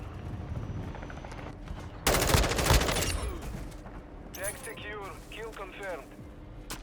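Call of Duty gunfire: a dense burst of rapid shots around the two-second mark, loud and close, followed by scattered lighter shots and in-game voice chatter over a constant background bed.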